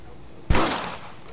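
A single rifle gunshot in the Red Dead Redemption video game fires as one sharp, loud crack with a short booming tail that fades over under a second.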